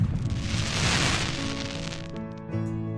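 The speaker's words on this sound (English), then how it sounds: "Firework noises, wow." Fireworks in the Panzermadals tank dating simulator game, a dense crackling rumble of bursts that thins out into sustained musical tones, moderately loud with no talking.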